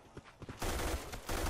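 Gunfire in the shooter game Black Squad: quiet scattered shots at first, then a loud, dense burst of rapid shots that keeps going to the end.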